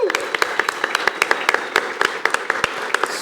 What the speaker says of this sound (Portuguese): Uma salva de palmas para essa plateia.